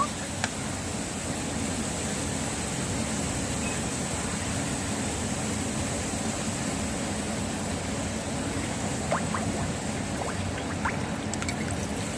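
Water poured onto fried spice paste in a pan for a rohu fish curry, a steady broadband hiss of liquid hitting the hot masala, continuous and even throughout.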